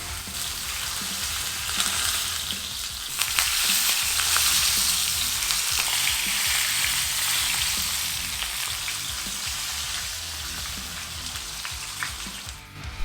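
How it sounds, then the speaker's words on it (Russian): Steady, loud sizzling of pork searing in a hot frying pan, a continuous crackling hiss with occasional sharper pops, no voices. "И отправляем обжариваться свинину"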